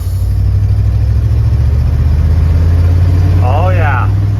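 A 1977 Ford F150 truck engine runs steadily at a low, even idle throughout, loud and close, with a brief voice-like chirp near the end.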